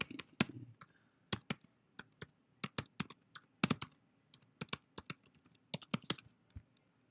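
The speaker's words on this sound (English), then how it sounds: "So we type in our succeed.naviance.com/Lebanon Senior High School." Quick, uneven bursts of keystrokes on a computer keyboard as a web address is entered, close and clear with short pauses between clusters of taps, no talking.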